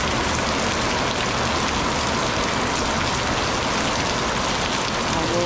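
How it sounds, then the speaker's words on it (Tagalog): Heavy rain pours down in a dense, steady roar on the surfaces nearby, loud and unbroken, with no voices. "Mas na ulan na ito ah."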